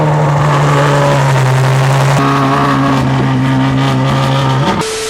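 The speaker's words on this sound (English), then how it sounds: "the exhaust you hear is just insane. It's just a straight pipe." A Ferrari 812 Superfast engine drones loudly at high revs with a harsh, raspy straight-pipe exhaust tone, stepping up in pitch once, then abruptly changing near the end.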